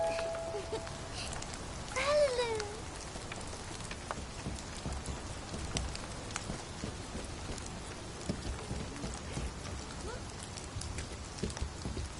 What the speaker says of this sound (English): The plips and plops of raindrops are so nice to fall asleep to.